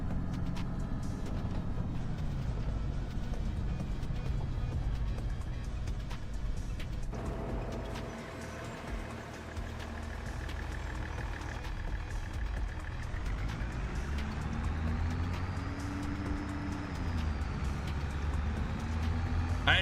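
A big, old-school quad track tractor in Farming Simulator 25 drones with a steady low engine rumble, its pitch rising and sweeping partway through as the engine works, constant and fairly close throughout.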